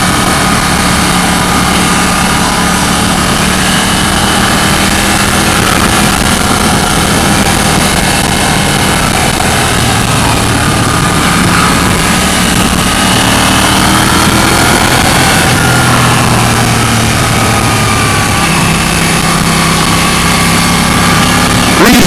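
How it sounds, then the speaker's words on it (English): A KTM 790 motorcycle engine drones steadily while riding along a twisty road, with a continuous close engine note and wind rush whose pitch rises and falls through gear changes and engine braking. "Reasonable amount of engine braking as well."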